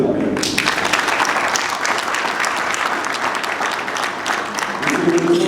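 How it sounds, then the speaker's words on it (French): An audience at a scientific elites' anniversary event applauds the president of the Republic, dense sustained clapping close up and continuous throughout. "Je vous prie d'applaudir le président de la République, Fathi Berton, pour cet appel."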